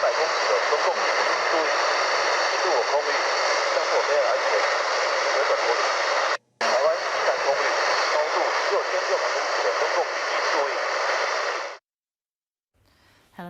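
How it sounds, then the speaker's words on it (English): Intercepted radio from fighter jet activity near Taiwan: a steady, hissing roar of aircraft noise through a radio channel, continuous and fairly loud, briefly cutting out once before ending abruptly in silence. "used equipment to allow us to listen in to fighter jet activity"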